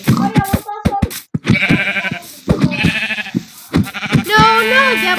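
Minecraft farm animals, including a sheep, bleat in short repeated game calls, interleaved with brief clicks and bursts, loud and close.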